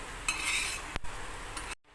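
Roasted coriander seeds scraped and stirred in a hot pan while making black masala chicken spice blend, a dry rattling scrape with a few sharp metallic clinks from a spoon, close and fairly loud, ending abruptly.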